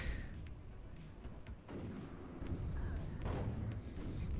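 Tanks firing in the real-time strategy game WARNO, with an Abrams among them: a run of deep, booming shots at a steady spacing over several seconds, each a heavy thud fading into rumble, mid-distance and fairly loud.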